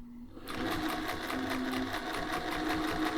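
A vintage Singer 201-2 sewing machine quilts a classic table runner, starting after a brief quiet moment into a steady fast rhythmic stitching chatter, close and moderately loud throughout.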